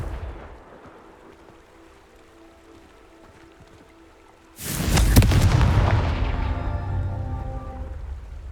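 A Confringo fire spell in Hogwarts Legacy lands as a sudden loud, booming explosion after a quiet stretch, then a long crackling, rumbling tail that slowly fades.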